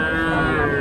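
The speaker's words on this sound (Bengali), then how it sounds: "ফ্রিজিয়ান কুরাসের গাভী, ফ্রিজিয়ানের গাই।" A Friesian cross cow at a busy cattle market gives a single loud, close, sustained moo lasting under a second.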